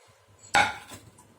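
About 400 grams of chicken pieces drop into a bowl for a Sunday chicken dish, making one short clattering knock against the bowl. Faint rustling follows in a quiet kitchen.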